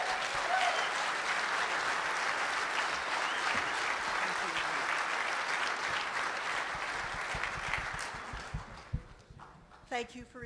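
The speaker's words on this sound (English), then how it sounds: "Let's give her a round of applause." Audience applause at a political Lincoln Day dinner in Spokane County, a loud, steady crowd clapping that fills the room for about nine seconds before fading as a few voices come in.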